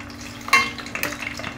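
Tempe frying briefly in hot oil while being stirred, with a sharp scrape of utensil on pan, then soft sizzling and clinks at close range.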